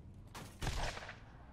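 A burst of gunfire in the video game Borderlands, a few quick shots then a louder blast that rings out and fades, with no talking.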